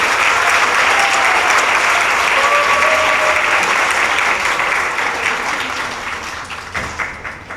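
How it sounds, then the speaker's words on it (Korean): Loud, dense applause from a lecture audience at a Korean-American forum, sustained for several seconds before thinning into scattered claps and dying away. "자, 다 같이 박수 한번 해주실까요?"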